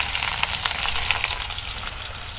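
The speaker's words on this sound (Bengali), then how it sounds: "এখন আমি সরষের তেল দিয়ে দিই তেল গরম হচ্ছে এখন আমি পেঁয়াজ কুচি দিয়ে দেবো" Chopped onion frying in hot mustard oil, a dense continuous sizzle with crackling pops, close and loud, with no voices.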